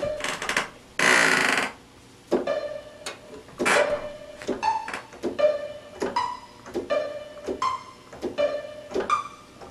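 Plucked pizzicato string notes with raised effects in a steady repeating pattern with reverb tails, after a short burst of noise at the start.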